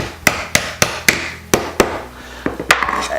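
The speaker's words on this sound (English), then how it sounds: "I can basically tap on this" A hobby hammer taps board game insert pieces together: seven or eight sharp, loud knocks in an uneven rhythm, close by with no voices, the last few coming quicker and softer.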